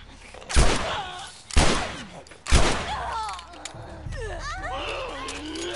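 Gunfire in The Last of Us on PS4, three loud, sharp shots about a second apart followed by echoing tails, then quieter game ambience with a voice talking over it.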